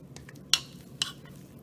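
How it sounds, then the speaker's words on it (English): Potatoes are mashed with milk in a pot, giving soft wet squelching and a couple of sharp utensil clinks against the pan, close and quiet. "I'm just gonna mash up the potatoes."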